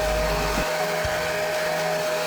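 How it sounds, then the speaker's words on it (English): A hair dryer blows on a carved wall panel with a loud, steady whooshing roar close by, its motor tone shifting briefly near the start. "I'm just going to get a hairdryer on it to speed that up."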